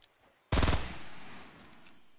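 A single loud burst of gunfire in the game Fortnite, a sharp close rattle of rapid shots that decays into a ringing tail.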